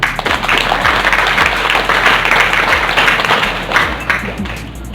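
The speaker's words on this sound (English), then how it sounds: "So give yourselves a round of applause." An audience at a business completion awarding event gives a loud, dense round of applause, many hands clapping together for several seconds.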